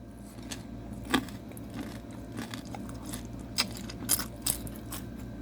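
Someone bites into a vegetable spring roll and chews it, producing several crisp crunches scattered over a few seconds above a low background hum. No one speaks.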